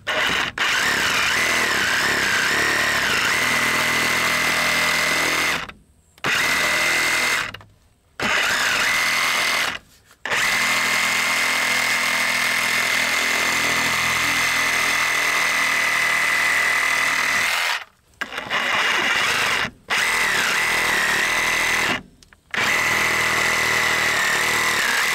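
A power tool runs in long, loud, steady bursts while cutting out a drain section during a salvaged mobile home rebuild. Several brief pauses break the cutting, and the motor whine rises and falls under load.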